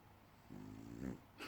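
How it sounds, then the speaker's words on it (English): A brachycephalic dog with a stuffed-up nose, an older bulldog-type pet tired after a walk, lets out a faint, close snoring snort of about a second, a rough nasal rattle over a quiet room. "He could snore for Great Britain"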